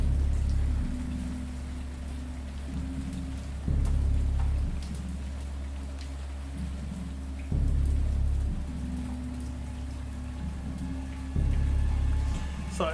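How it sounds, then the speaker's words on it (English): Rain falls steadily in the video game Dagon, a constant hiss of drops on surfaces, with a low rumbling layer that swells and fades at regular intervals throughout. "that the fucking rain actually sounds super fucking realistic"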